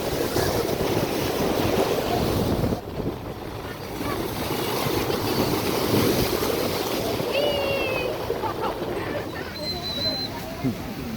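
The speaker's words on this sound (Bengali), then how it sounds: "আর বিশাল ঢেউ উঠছে, বিশাল ঢেউ।" Big sea waves roll in at a river mouth near Digha, a loud continuous roar of surf with heavy wind buffeting the microphone and a brief lull partway through.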